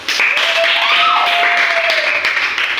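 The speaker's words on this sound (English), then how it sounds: "give yourself a round of applause" Students in a classroom clap together in a short, dense burst of applause, with a voice speaking over the clapping throughout.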